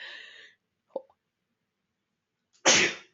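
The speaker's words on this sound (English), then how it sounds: "I couldn't quite pause to say I was going to sneeze." A single sharp, loud sneeze bursts out near the end, preceded by a soft intake and a brief click.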